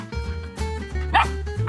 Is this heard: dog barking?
yes